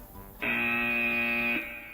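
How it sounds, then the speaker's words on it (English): A quiz-show buzzer at a school finals sounds once, a loud, steady electronic tone held for just over a second before cutting off abruptly, against quiet hall ambience. "Someone's gone on the buzzer"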